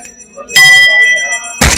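A bell in Jammu and Kashmir, rung for the first time in seven decades at a Navratri gathering, gives one loud, close strike that leaves a ringing tone decaying slowly, followed by a sharp thump near the end.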